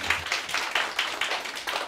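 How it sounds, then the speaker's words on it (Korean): A high school science class gives a student a short round of rhythmic clapping, about eight even, unison claps in quick succession with no talking over them. "박수."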